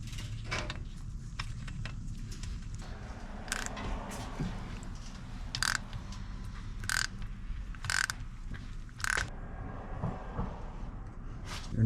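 Hex socket ratchet tightening the rear differential drain bolt on a Mercedes C300 4Matic W204: a soft, steady clicking under a low hum, broken by several short, sharper metallic clicks and clanks, fairly quiet.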